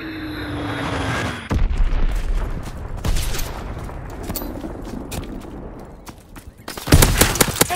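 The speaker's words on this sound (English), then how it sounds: "Enemy bomb incoming!" An enemy bomb explodes in Call of Duty: WWII with a heavy, close blast, among repeated booms, bursts of gunfire and rumbling battlefield noise, with a second loud burst near the end.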